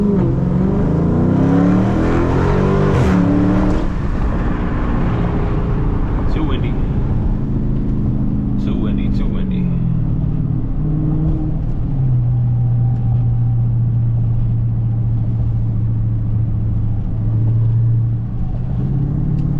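Dodge Charger Scat Pack accelerating hard from inside the cabin, its engine note climbing through gears with loud rising revs, then settling into a steady low drone, while people talk over it.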